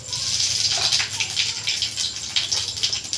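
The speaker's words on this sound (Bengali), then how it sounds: "5 ফোড়ন দিয়ে দিচ্ছি তেলে।" Panch phoron five-spice seeds hit hot oil in a pan and sizzle steadily with crackly, hissing spatter, close and moderately loud, with no voices over it.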